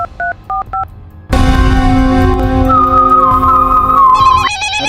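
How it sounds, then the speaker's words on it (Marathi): A telephone sounds three short beeping tones, then a sustained bright ring tone with shifting pitch, loud and close, with no voices. "फोन आला रे"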